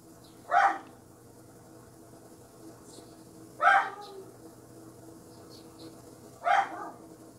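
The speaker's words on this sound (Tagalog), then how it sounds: "kailangan kong huminto kasi ang ingay ng aso" A dog barks three times in single short bursts spaced about three seconds apart, moderately near, over a quiet room background.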